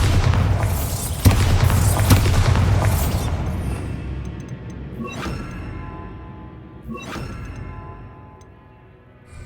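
A Bombarda blasting spell goes off in Hogwarts Legacy, a deep rumbling explosion with crackling debris, followed by a few sharper bursts and pops fading as it dies away.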